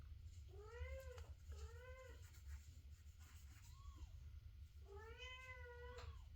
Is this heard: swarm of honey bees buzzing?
no